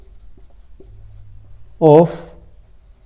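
Pen or marker strokes during a Class 10 maths lesson on height and distance, heard as a few faint, brief scratching ticks over a low steady hum, followed by a short burst of speech.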